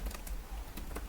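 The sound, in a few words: typing on computer keyboard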